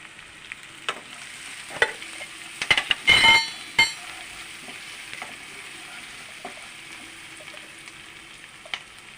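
Frying in a pan while cooking, with ivy gourd to be added later: a steady soft sizzle with clinks and stirring scrapes, strongest in a burst around the middle, close by and with no voices.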